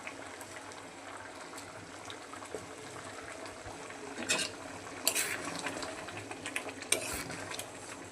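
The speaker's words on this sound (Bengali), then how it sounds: "মাছের মাথাগুলো দিয়ে দিচ্ছি।" Fish heads simmering in a pot of mug dal for Bengali muri ghonto give a steady bubbling, liquid sound, with a few sharper splashy bursts toward the end and no talk.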